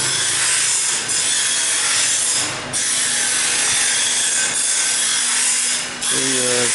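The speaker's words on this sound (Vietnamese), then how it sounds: "Xẻ gỗ mun thì có cái mùn cưa" Ebony wood is cut in a sawmill workshop: a loud, continuous rasping saw drones steadily, with a few brief dips in intensity and no talking.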